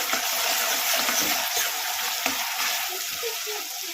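Cold water splashes and gushes over boiled eggs in a kitchen pot, a close, continuous watery rush with small bubbling pulses, alone with no talk.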